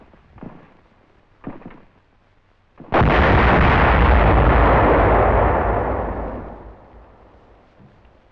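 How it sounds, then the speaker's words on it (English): TNT demolition charges blasting shut hillside caves in wartime footage: a couple of faint thuds, then one big roaring explosion that rumbles on for several seconds before fading. "Resulting explosions close all but the biggest caves"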